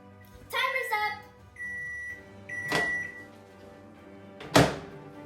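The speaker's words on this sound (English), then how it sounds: "Then you're gonna stick it in the microwave for 30 seconds." A microwave oven heating a cupcake-case cake hums steadily at close range, with a few knocks and thunks of the door, then the timer's electronic beep rings out near the end.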